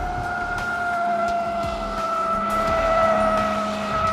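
A 2014 Cadillac CTS-V Sport circles a skid pad, its tires holding a steady, sustained squeal over a continuous engine roar, loud and unbroken throughout.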